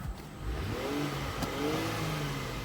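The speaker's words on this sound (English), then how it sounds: "I'll give it a quick rev here." A 2010 Lincoln MKX with its Edge-style exhaust is revved briefly, the engine note swelling in two quick rises and settling, faint and fairly distant with no talk over it.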